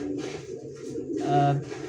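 Pigeons being fed grit, with soft cooing and low throaty bird calls close by, a steady murmuring texture running through, swelling slightly near the end.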